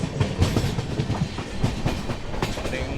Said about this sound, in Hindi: ट्रेन नंबर 15027 यानी संबलपुर गोरखपुर मौर्य एक्सप्रेस, इसमें आज हम लोग बोर्ड हैं